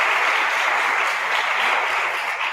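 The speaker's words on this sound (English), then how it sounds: "If you give him a round of applause." Applause for a pianist at a rehearsal, a dense steady wash of clapping from a group of people, loud and continuous throughout.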